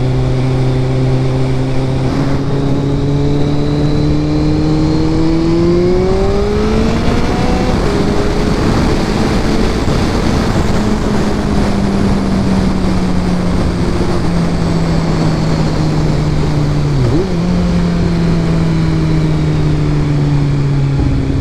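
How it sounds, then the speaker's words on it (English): A motorcycle engine revs up as the throttle opens, its pitch climbing over several seconds, then holding a loud, high steady drone with a brief dip near the end. "just opening up the throttle really just puts a smile on my face"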